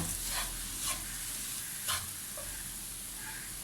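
Bread and coconut roast in a pan over a low flame, a quiet, soft sizzle broken by a few brief stirring scrapes.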